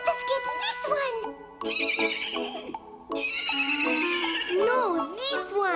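Several loud horse neighs and whinnies ring out in bursts, close up, with some clip-clopping hooves in between.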